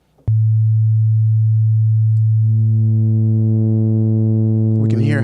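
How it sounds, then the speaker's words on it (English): A pure sine wave oscillator in the Reason Grain synth holds a steady, loud tone, then gains stacked harmonics as modulation pushes it toward a buzzier, sawtooth-like timbre, ending in a brief warbling wobble. "We can hear how that sine wave is being modulated and moves almost towards a bit of a sawtooth effect"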